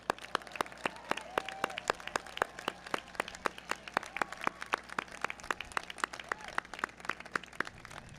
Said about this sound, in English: everybody clap it up for them